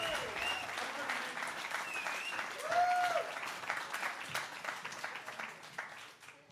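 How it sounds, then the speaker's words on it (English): A comedy club audience applauds and cheers for a stand-up comedian walking on, a steady wash of clapping at moderate level that tapers slightly toward the end. "Give us a cheer."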